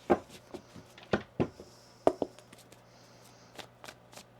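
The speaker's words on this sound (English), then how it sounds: "One more shuffle here." Tarot cards are shuffled by hand in a quiet room, giving a series of soft riffling flicks and light taps in an uneven rhythm, close and fairly faint, with no talking.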